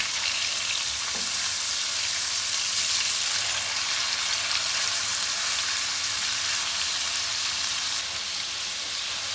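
Small vinegar-washed pieces of boneless beef frying in a pan for beef masala, a loud continuous sizzle and hiss running close and unbroken, with no talk.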